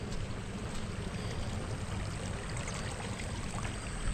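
Strong rush of water gushing from a central irrigation outlet on a radish farm, a steady broadband roar with splashing, close and continuous throughout, no voices.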